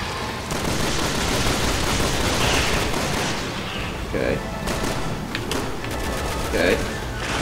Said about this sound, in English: So yes, we have to shoot the shark. Okay, I'm just gonna use my shotgun.